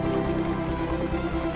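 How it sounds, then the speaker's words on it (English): Heavy rain pouring steadily during an October storm at a large lake, a dense, continuous wash of close drumming with a low rumble beneath, no voices. "That turned into heavy rain."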